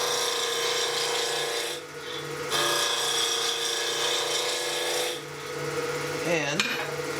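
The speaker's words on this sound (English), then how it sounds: "Roughing gouge is going to be easier for a lot of people." A roughing gouge cuts into a spinning wooden blank for a handle insert on a lathe, giving a steady rasping, scraping hiss with brief pauses and shifts in pitch, close and continuous.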